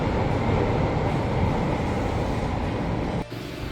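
A train in Japan runs with a loud, continuous roar and rattle of wheels and carriage throughout, close and steady, then dips briefly near the end.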